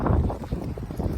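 Loud, buffeting wind rumbles against the microphone in uneven gusts, low and muffled throughout.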